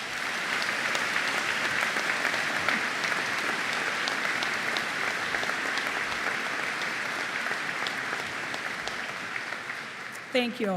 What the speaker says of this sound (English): please join me in a round of applause thanking these sponsors